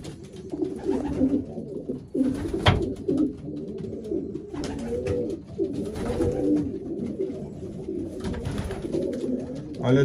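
Young racing pigeons in a London loft coo steadily in low, rolling murmurs, close and continuous, with a sharp knock partway through and some background rustling.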